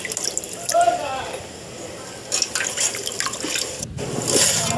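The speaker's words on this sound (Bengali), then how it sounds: "এগুলো এখন ধুয়ে নিব পরিষ্কার করে।" Dried shrimp are rinsed clean in water, with splashing, dripping and sloshing in a basin or sink. A voice talks over part of it, and the water is fairly close and moderately loud.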